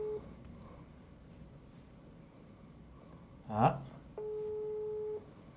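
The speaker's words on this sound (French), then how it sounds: "Troisième sonnerie." A telephone ring tone sounds during a call, a faint steady tone breaking off and then returning as a longer flat tone, with a brief voice in between.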